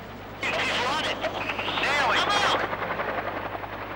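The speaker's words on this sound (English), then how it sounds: "Included in the Red Force are Mi-17 Hiplite and Mi-8 attack helicopters" A military attack helicopter flying past, its rotor noise swelling and fading with a steady chop, mixed with a voice speaking over it.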